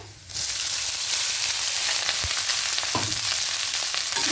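Rice goes into a hot pan with fried cumin for vegetarian jeera rice, setting off a sudden loud, steady sizzle with faint stirring scrapes underneath.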